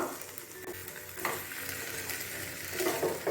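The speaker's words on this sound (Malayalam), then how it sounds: "ഇതൊന്ന് സോർട്ട് ചെയ്ത് കിട്ടണം അതൊന്ന് ഇളക്കി കൊടുക്കുക" Broccoli cooks in a pan for soup, with a continuous gentle sizzle and occasional spatula scrapes as it is stirred, heard close and fairly quiet without any voices.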